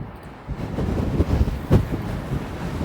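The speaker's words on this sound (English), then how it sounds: "This wind is really strong." Strong wind buffets the microphone of a cyclist riding through Toronto streets in early spring, a steady low roar with gusty swells and no talk.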